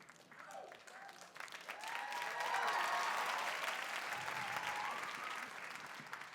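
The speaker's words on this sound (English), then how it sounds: "You are correct to applaud." Comedy club audience applauding steadily, the clapping swelling in the middle and holding for several seconds, dense and full with no talk over it.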